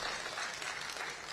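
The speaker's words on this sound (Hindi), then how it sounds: "स्वागत में एक बार तालियां बजाइए" Brief burst of applause from the audience at a Hindi poetry gathering (kavi sammelan), a dense, even patter of many hands clapping throughout.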